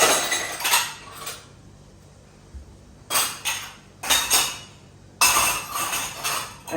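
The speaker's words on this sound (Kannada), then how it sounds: "ಆರಾಮಾಗಿ ಕೂತ್ಕೊಂಡು ತೊಳಿಬೋದು ಎಷ್ಟು ಪಾತ್ರೆ ಇದ್ರೂ" Utensils and dishes are washed outdoors, with metal pots and cutlery clanking and clinking in several short bursts separated by quieter gaps, close by and with no talking.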